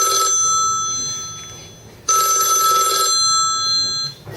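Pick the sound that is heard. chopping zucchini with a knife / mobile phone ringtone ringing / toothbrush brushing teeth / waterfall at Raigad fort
mobile phone ringtone ringing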